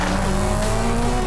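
Mitsubishi Lancer Evolution VI in Forza Horizon 5 braking hard, its tires squealing over a steady, loud engine drone in a continuous burst.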